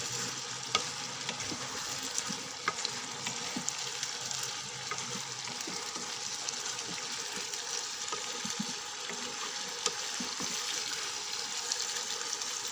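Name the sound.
stirring frying potato and pointed gourd curry in pan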